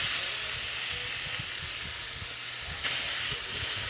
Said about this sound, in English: So we're gonna give it a good sear on all four sides.